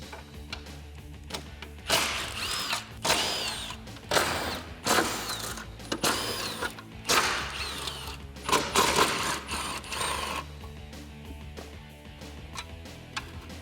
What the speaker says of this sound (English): There's 8 bolts that hold it on. We're going to remove them all with a 13 millimeter socket.